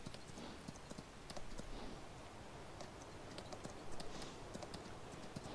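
In the Farm Sim video game, a horse's hooves clop steadily and quietly as it is ridden around, a continuous even rhythm over a faint background.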